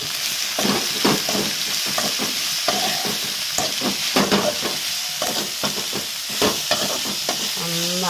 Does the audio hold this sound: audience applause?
no